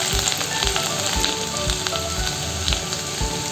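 Onion and ginger sizzle steadily in hot oil in a pan while making a vegetable Manchow soup, a dense continuous crackle with popping spatters, close and fairly loud with no voices.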